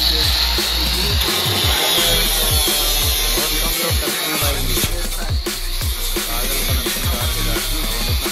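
An angle grinder cuts through a VW Polo's car bonnet to make vent openings. It gives a steady, high, hissing whine that runs without a break, with faint low knocks underneath.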